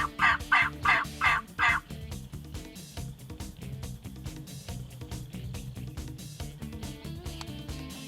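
Wild turkey gobbler gobbling in the open during a spring hunt, one loud rapid rattling burst of five quick pulses near the start, followed by a steady background of rhythmic rustling and knocking.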